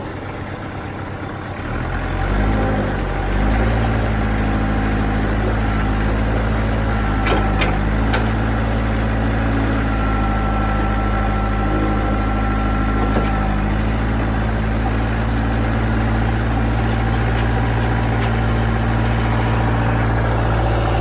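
A vehicle's engine at auction starts up and then idles steadily, loud and close with a deep continuous rumble, and a few brief throttle blips push the pitch up.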